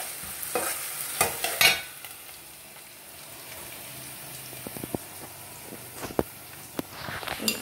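Onions fry in a pan for a shrimp and potato dish in tomato sauce, giving a steady close sizzle with scraping stirs that come in louder bursts near the start.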